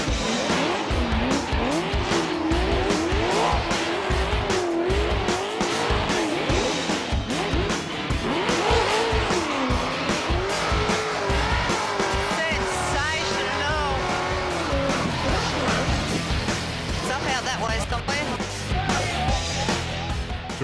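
V8 Ford and Holden muscle cars do donuts on a night rally stage, with engines roaring and tyres squealing continuously and loudly for twenty seconds, layered with crowd and commentary voices.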